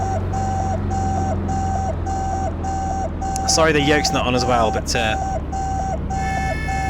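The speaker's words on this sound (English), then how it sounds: "So apologies for the beeping" Steady electronic beeping from a flight simulator cockpit's stall warning repeats at a regular pulse throughout, with a person briefly talking over it midway.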